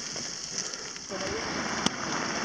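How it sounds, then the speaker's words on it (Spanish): Small hailstones falling during a storm on Cerro Tilhue in northern Neuquén, heard as a dense steady pattering on rock and ground, with a voice speaking partway through. "Tenemos tanta suerte que la tormenta vino con granizo."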